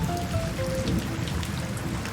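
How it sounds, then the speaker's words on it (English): Steady pitter-patter of rain falls on a surface, a dense, continuous wash of close raindrops with no voices. "the sound of pitter-patter rain"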